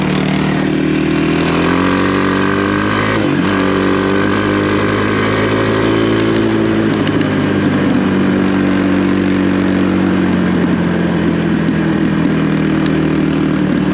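The engine of a trail dirt bike runs steadily nearby with a rough, throbbing idle, with a couple of brief throttle changes along the way.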